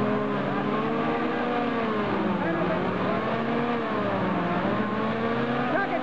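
A car engine revs steadily and loudly up close, its pitch wavering up and down throughout, while excited voices shout over it in Bulgarian as someone urges more throttle.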